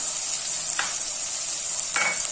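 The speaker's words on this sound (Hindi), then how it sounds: "अच्छी तरह से लहसुन अदरक और प्याज फ्राई हो गई है।" Chopped tomato frying with garlic, ginger and onion in a pan, giving a steady hiss of sizzling oil with two short stirring scrapes.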